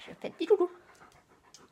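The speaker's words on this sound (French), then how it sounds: "Voilà, c'était le chien." A dog panting in short, quick breaths close by, mixed with someone speaking French over it.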